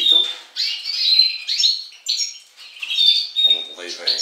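A caged greenfinch and other cage birds chirp and squawk in short bursts at close range, with quiet gaps between calls and a voice talking softly at times.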